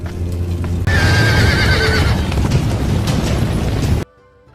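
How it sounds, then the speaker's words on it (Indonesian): Many horses gallop and neigh in a night film scene where a fire has broken out. Loud, dense hoofbeats and whinnies run continuously for about four seconds, then cut off abruptly. "seorang prajurit melihat kebakaran serta para kuda yang begitu banyak sedang berlarian"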